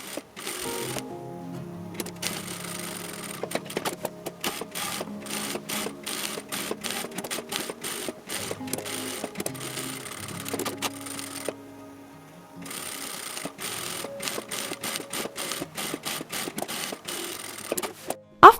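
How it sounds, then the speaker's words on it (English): A sewing machine stitches a quilted baby changing mat in fast, steady bursts of needle clatter, pausing briefly as the fabric is guided, then resuming close and clear with no talk. "I gently guide the fabric toward the outer edge as I sew"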